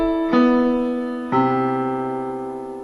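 Two sustained chords voiced in fourths for four horns sound one after the other, each entering with a clear attack, ringing at steady pitch and slowly fading, with no talking.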